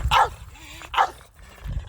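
Dogs barking near a cabin, two sharp barks about a second apart, then a quieter low stretch and a rising third sound at the end, with no talk.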